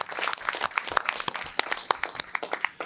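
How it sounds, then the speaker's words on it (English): A small group at a public board meeting claps in a quick, uneven patter of sharp hand claps, fairly quiet and brief. "let's give them a nice round of applause for a job well done"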